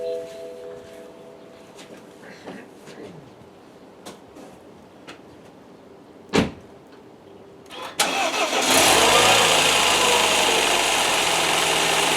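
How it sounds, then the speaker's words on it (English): A BMW N13 engine, freshly fitted with new spark plugs, cranks and fires into a loud steady idle after several quiet clicks and a sharp knock, the idle hum continuing to the end. "To make sure everything is perfect, just start up the car."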